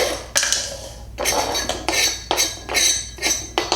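Pieces of chocolate eclair are dumped into a metal pot, giving a series of clattering, scraping bursts in an uneven rhythm, close and fairly loud, with no talking.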